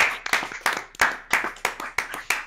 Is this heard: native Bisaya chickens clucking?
no